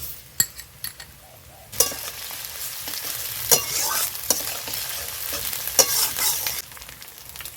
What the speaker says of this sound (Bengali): এখন এখানে আমি এই আদা রসুনের পেস্টটা দিয়ে দেব।